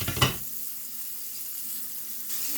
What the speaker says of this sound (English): So continue to fry all of it.